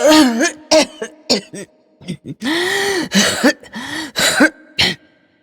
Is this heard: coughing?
yes